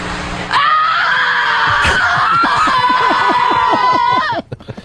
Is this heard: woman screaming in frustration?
yes